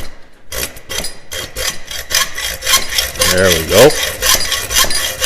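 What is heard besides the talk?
hacksaw cutting a bottle opener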